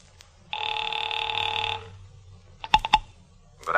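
In a radio drama sound effect, a telephone bell rings loud and close for just over a second, followed by a quick series of clicks as the dial is worked, with no talking.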